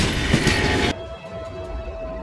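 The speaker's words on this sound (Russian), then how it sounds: "Это точно поезд Томас Экзе!" Ghost train Thomas EXE from a video game rumbling along in a loud steady roar that cuts off abruptly, leaving a quieter mechanical hum with a faint sustained whistle-like tone.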